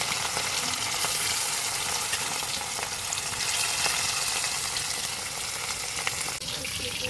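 Whole rohu fish pieces frying in hot oil, a loud, steady crackling sizzle that runs without a break.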